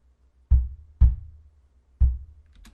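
MIDI percussion with the attack rolled off plays three soft, rounded low thumps, near and evenly spaced, each decaying quickly into silence, with no talk.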